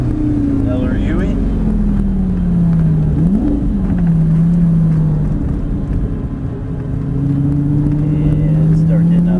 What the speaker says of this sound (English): start getting on the throttle, full throttle